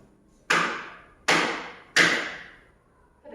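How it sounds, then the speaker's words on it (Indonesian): Three sharp wooden knocks of an eraser striking a classroom table, evenly spaced about three-quarters of a second apart, loud and close, with a fourth starting at the very end and no talking. "Suara ketukan meja oleh penghapus."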